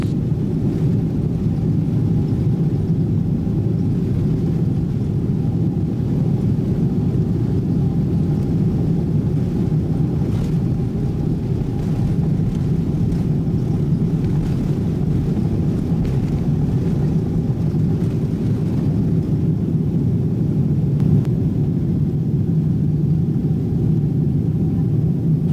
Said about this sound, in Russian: И самолет набирает скорость для разбега.